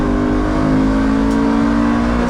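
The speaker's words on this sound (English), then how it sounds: "The sound of the V8, amazing." A widebody BMW E92 M3's V8 pulls hard on the Nürburgring, a loud, steady engine roar with a constant tone heard close up from inside the car, no talking.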